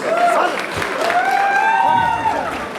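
Arena crowd applauding and cheering a fighter's entrance at a WEF Proffight event, loud sustained clapping under an announcer's amplified voice and music.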